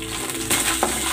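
Garlic starting to sauté in hot oil in a pan for pork menudo, a close, bright sizzle with a light clink of a utensil against the pan.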